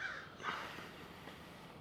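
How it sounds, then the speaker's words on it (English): Crows caw outside while someone camps overnight in a Tesla Model 3, two or three faint, distant calls over quiet background. "freaking birds."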